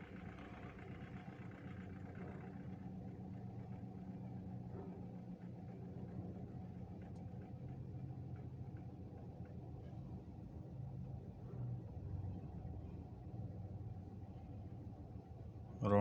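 A Toyota engine idles roughly near 730 to 800 RPM, a steady low mechanical rumble with uneven fluctuation, close and continuous throughout with no talk.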